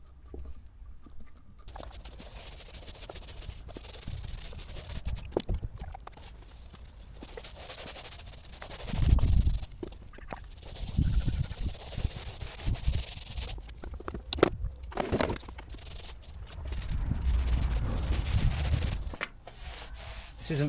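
A paint roller lays a second coat of sealer over already-sealed tarmac on a large driveway, giving a steady close rubbing and crunching roll with louder heavy passes, continuous throughout.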